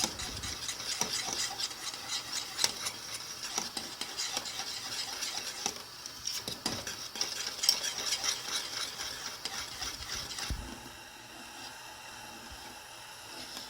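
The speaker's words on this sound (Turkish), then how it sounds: "Bu şekilde iyice karıştırıyoruz. Dibine tutmasın." Arabaşı soup dough is stirred in a pot, with a spoon scraping and rubbing in steady strokes, close and fairly quiet, and the stirring sound drops off near the end.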